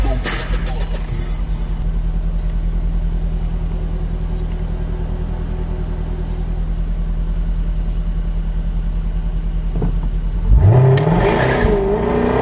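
A car driving away from a car meet, a steady low engine rumble and road drone held at an even level, swelling near the end as the engine gets louder.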